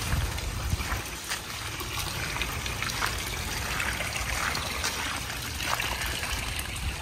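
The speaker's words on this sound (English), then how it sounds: "This waterfall that goes down there." Steady trickling and splashing of a garden pond waterfall falling into a pool, continuous and fairly close, with faint background ambience and no talking.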